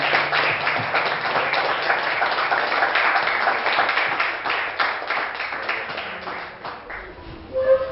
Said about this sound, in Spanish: ¿Por qué no le damos un aplauso a nuestro Señor por esa libertad?